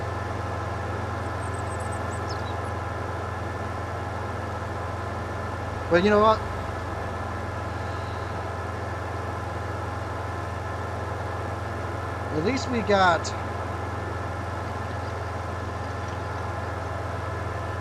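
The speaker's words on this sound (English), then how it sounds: "Hey, this is a medium-sized tractor." A medium-sized tractor engine idles steadily in Farming Simulator 25, a constant low drone throughout while a person talks briefly over it in two short bursts.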